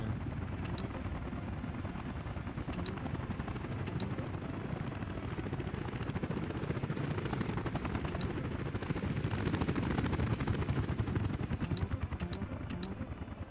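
Steady, loud helicopter rotor drone from the video game Workers & Resources: Soviet Republic, a continuous low thudding chop with periodic sharp clicks, heard alone without talk.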